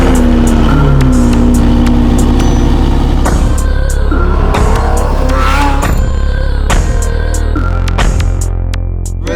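A Lamborghini supercar on the road, its engine throbbing loudly and close from inside the cabin with a deep steady drone, rising revs and intermittent clicks and knocks, no speech.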